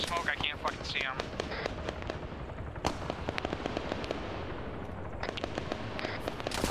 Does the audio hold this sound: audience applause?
no